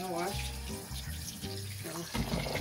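Tap water runs steadily into a sink while rice is washed, a constant splashing stream under a person talking.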